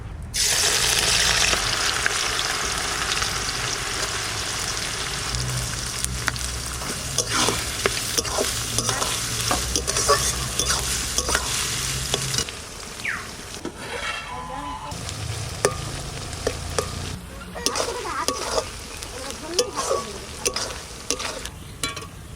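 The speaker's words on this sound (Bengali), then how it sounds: "সাদা তেল বেরেস্তাটা ভাজবো" Onions frying in white oil for chicken biryani, sizzling loudly and continuously near the pan with frequent stirring scrapes and clinks, the sizzle easing partway through as the onions are turned, with talk mixed in.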